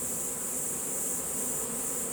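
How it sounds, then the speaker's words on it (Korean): A swarm of honeybees settling onto a hive, drawn by the queen's scent: a dense, continuous buzzing hum, loud and close, steady from start to finish with no voices. "여왕분 냄새를 맡고 지금 벌통에다 달라붙죠 꿀벌들이 열심히 달라붙고 있습니다"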